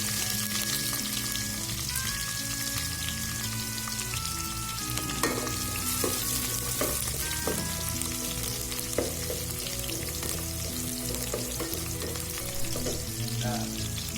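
Garlic and onion fry steadily in hot oil for adobo with chicken liver and heart, a continuous close sizzle with occasional stirring clinks and scrapes, while faint background music runs underneath.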